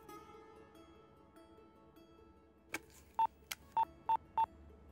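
A phone dials a call: a few soft clicks, then four crisp, evenly spaced keypad tones, loud and close against a quiet background.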